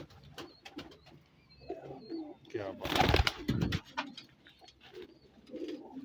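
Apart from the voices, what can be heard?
pigeons cooing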